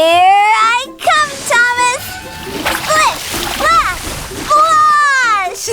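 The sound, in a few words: toy train splashing through muddy puddle water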